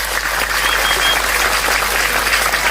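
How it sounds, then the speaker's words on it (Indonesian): Crowd applause at an Islamic religious gathering in Indonesia, a dense, steady wash of clapping at constant loudness with no speech over it. "Maka tepuk tangan untuk pemuda Pancasila."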